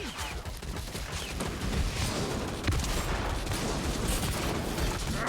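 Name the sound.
gunner firing in Vermintide video game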